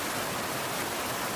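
A waterfall pours down with a steady, dense rush of water, close and constant with no breaks.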